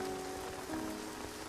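Steady rain falling in a TV drama scene, a dense even patter with a faint tonal hum underneath, continuous and moderately quiet, no speech.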